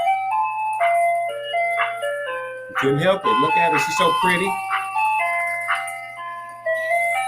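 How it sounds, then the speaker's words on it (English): An ice cream truck on a street plays its tinkling electronic jingle throughout, a bright repeating melody, while people talk nearby over it. "We were so happy at the ice cream truck."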